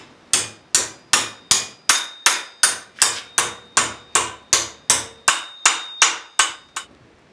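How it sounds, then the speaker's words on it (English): Cold bending of 1/8 inch steel brackets by hammer, about seventeen loud, evenly spaced ringing blows close by, the last ones slightly slower, with no talk. "Next thing, we're just gonna bend the brackets. We're gonna be doing this cold that's 1/8 inch."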